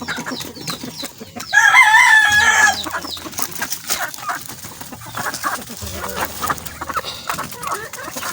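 Backyard chickens cluck close by at a feeder, and a loud crow rings out early on before the softer, scattered clucking resumes.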